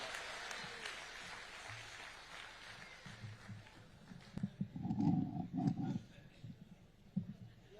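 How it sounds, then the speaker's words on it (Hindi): Applause from the audience at a Hindi comic poetry gathering for a woman poet reciting heroic verse, faint and distant at first, then swelling into a brief louder burst of clapping midway before fading. "एक बार जोरदार तालियां बजाकर"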